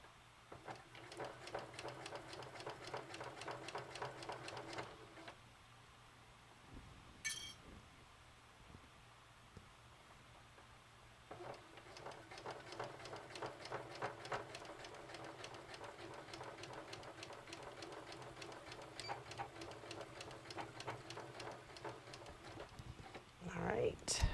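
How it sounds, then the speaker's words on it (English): A sewing machine stitches through suede on a tote bag, two long spells of fast, rhythmic needle chatter, faint and close, separated by a quiet pause with brief handling noise. "Has absolutely no problem sewing over the suede."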